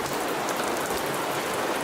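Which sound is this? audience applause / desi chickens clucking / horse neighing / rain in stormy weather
rain in stormy weather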